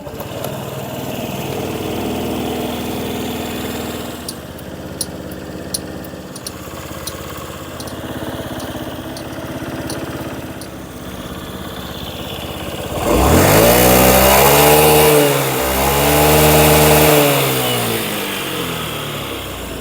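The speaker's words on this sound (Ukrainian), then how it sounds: "Двигун працює без жодних нарікань." A Honda Tact AF79 scooter engine idles steadily, ticking along, then revs up loudly twice near the end, rising and falling in pitch.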